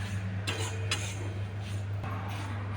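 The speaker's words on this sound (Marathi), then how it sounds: "आता गॅस बंद करायचा, असं हलवून घ्यायचं थोडं." Roasted ingredients are stirred in a pan with the gas switched off, a handful of scattered scraping and clinking strokes of a utensil over a steady low hum.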